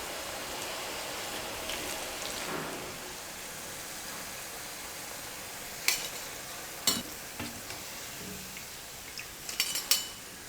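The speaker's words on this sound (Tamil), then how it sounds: "அதுக்கப்புறம் எண்ணெயில் பக்கோடா போட்டு பொரிச்சு எடுக்கிறதுல இருக்குது" Onion pakoda deep-frying in hot oil gives a steady, soft sizzle and bubbling throughout, with a few sharper clinks and scrapes of a utensil in the pan toward the end.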